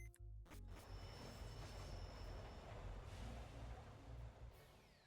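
A train in the Pokémon Rejuvenation video game runs with a steady, dense rumbling roar, starting after a brief sharp onset and holding evenly for several seconds.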